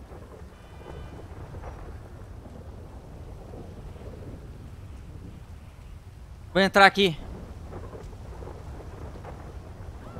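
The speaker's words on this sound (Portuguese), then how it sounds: "Tá chovendo demais, mano." Steady heavy rain hisses with low thunder rumbling beneath in a GTA 5 video game, and someone speaks briefly partway through.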